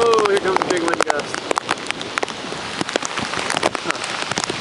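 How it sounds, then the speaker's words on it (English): Wind gust and heavy rain from Tropical Storm Irene in upstate New York, a steady loud rush of rain with crackling drops, while a person talks briefly at the start. "Oh, here comes a big wind gust."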